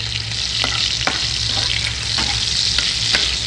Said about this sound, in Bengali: আমি আলুটাকে ফ্রাই করবো একটু জিরে করে দিয়ে